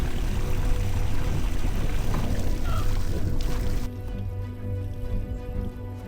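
A hot spring shower at Mývatn, Iceland, with water pouring and splashing in a steady close rush that drops to a quieter, lower flow partway through.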